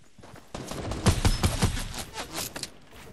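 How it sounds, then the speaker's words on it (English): Gunfire in the Fortnite video game, a rapid burst of loud close shots in a quick rhythm lasting about two seconds. "Oh, getting shot at. Guy shooting at us."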